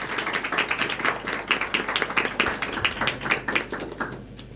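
A small audience at a Christian gathering claps to welcome a speaker, a sparse, uneven patter of hands that thins out toward the end.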